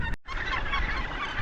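A dense colony of gannets calls at once in Hawke's Bay, New Zealand, a harsh, continuous cackling din that starts abruptly after a brief gap and stays loud throughout.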